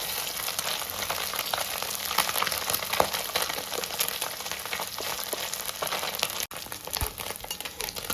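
Fish fries in a pan with a dense, steady crackling sizzle, close and fairly loud, broken only by a brief clink near the end, with no voices.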